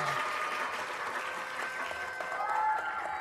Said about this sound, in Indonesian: tepuk tangan sekali lagi untuk Naura